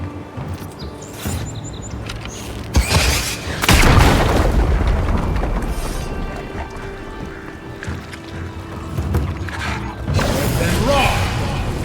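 A barrel in the video game Avowed is shot and explodes in a heavy boom, followed by rumbling debris and creaking mechanisms, with game voices speaking around it.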